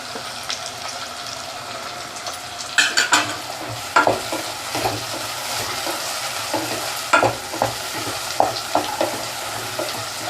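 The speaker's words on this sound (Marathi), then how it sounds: "आता याच्यामध्ये टोमॅटो घालते, कारण टोमॅटो शिजताना सुद्धा पुन्हा तो कांदा शिजेल" Onion and tomato sautéing in a pan for chicken keema, a steady sizzle broken by irregular scraping and stirring clinks from a spoon against the pan, close and fairly loud, with no talking.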